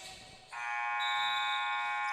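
At the end of the third quarter of a high-school basketball championship game, the arena buzzer blares in one long, loud, steady electronic tone that starts abruptly and holds, with no talking over it.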